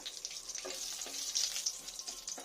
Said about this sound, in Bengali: এই তেলের মধ্যে আমি একটা এলাচ, লবঙ্গ, দারচিনি দিয়ে দিলাম, আর একটা তেজপাতা দিলাম